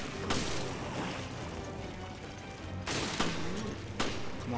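Gunfire in the Resident Evil Revelations video game: a few distinct shots spaced a second or more apart over a continuous low rumble of in-game noise, moderately loud and without talk.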